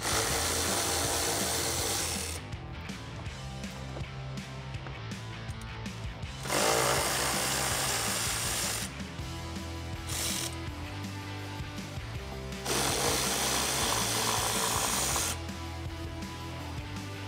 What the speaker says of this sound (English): Grab a T30 Torx socket and remove these.